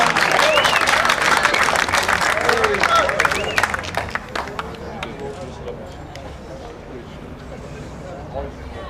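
A home crowd at a PBA World Bowls Tour qualifying event breaks into loud, sustained applause for about four seconds, then fades to quieter murmuring, with commentators talking over it.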